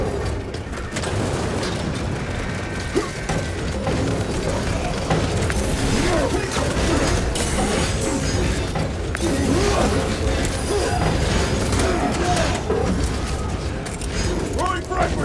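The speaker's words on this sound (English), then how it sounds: "The elevator's almost here." An elevator in Warhammer 40000: Space Marine 2 arrives amid a battle, its loud grinding and creaking mechanism running continuously under dense combat noise and booms, with voices talking over it.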